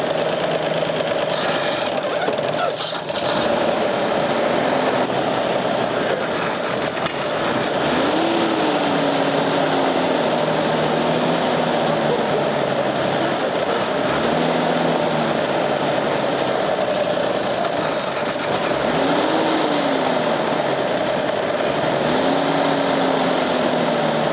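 A rough Toyota FJ40 engine idles steadily and loudly throughout on a first start attempt, with a faint knocking rumble and occasional rising whine over the constant drone.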